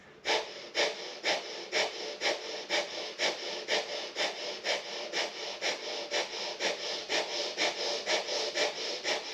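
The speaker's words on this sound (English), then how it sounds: "Really powerful breath of fire." Breath of fire, a rapid Kundalini breathing exercise, done as a steady train of sharp, forceful nasal exhales at about two to three per second, close and loud throughout, with no speech.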